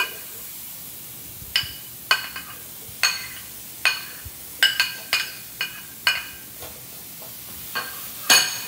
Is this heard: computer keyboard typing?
no